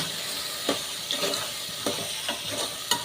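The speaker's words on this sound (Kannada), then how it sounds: "ಇವಾಗ ಉಪ್ಪೆಲ್ಲ ಹಿಡಿಬೇಕು ಕಡಲೆಕಾಳು ನೀಟಾಗಿ ಫ್ರೈ ಮಾಡ್ಕೊಳ್ಳಿ" Chickpeas fry with turmeric and salt while a spoon stirs them. A constant sizzle runs under about six brisk scraping strokes against the pan, with no voices.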